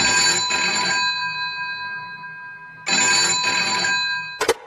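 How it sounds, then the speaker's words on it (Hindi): A landline telephone rings in a room at night, two long metallic bell rings separated by a pause, then a short clipped ring at the end, loud and close with nothing else around. "उसके कमरे का लैंडफोन बजा।"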